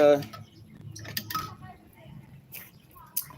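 A spoon or utensil clinks lightly against a glass while a drink is stirred, a few small taps and chinks, faint, with a voice speaking in the background.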